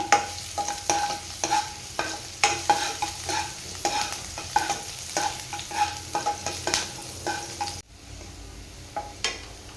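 Chopped ginger and green chili frying in a hot pan for egg fried rice, with a spatula scraping and tapping in a quick irregular rhythm over a constant sizzle, then a sudden drop to a quieter sizzle near the end.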